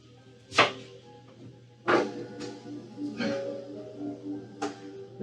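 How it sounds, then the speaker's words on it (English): A kitchen knife slicing a cored cabbage into thin shreds on a board: four or five crisp separate cuts, each a sharp crunching chop with a short tail, spaced irregularly and heard close with no talk. "I just basically go in there with a kitchen knife and start slicing."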